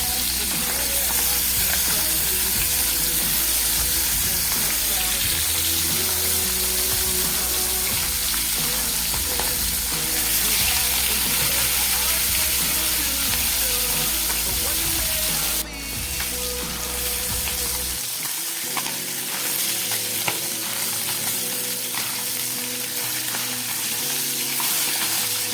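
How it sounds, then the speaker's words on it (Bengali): Tangra fish frying in hot oil, a loud, dense, continuous sizzle that holds steady close by and softens slightly near the end. "তেলটা গরম হয়ে গেছে। এবার এর মধ্যে দিয়ে দিচ্ছি ট্যাংরা মাছ।"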